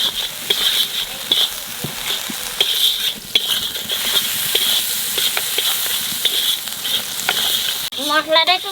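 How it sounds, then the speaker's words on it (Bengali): Spice paste of green chilli, salt and turmeric frying in a pan for a rohu and eggplant curry, a steady close sizzle with scattered pops and stirring clicks, a voice briefly heard at the end. "মশলাটা একটু ভাজিয়ে নিছি"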